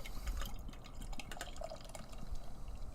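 Fruited sour beer, a thick slushy-style brew, pours into a small tulip glass, giving a steady liquid splash and gurgle that runs throughout at close range with no talking.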